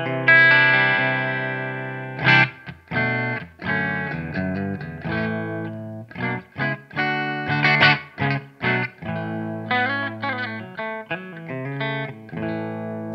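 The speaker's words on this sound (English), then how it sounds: "Let's hear it with some clean tones there." A Fender Tom DeLonge Starcaster electric guitar plays a run of sustained chords and picked notes with a processed, effected tone, heard alone without any talking.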